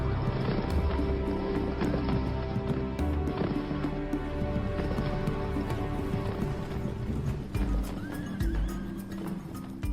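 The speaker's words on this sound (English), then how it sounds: "home to a breed of horse found nowhere else," He horses, a breed from the high grassland plateau of Gansu, China, neigh and whinny loudly while hooves clip-clop steadily throughout, over a constant backdrop of patter like falling rain.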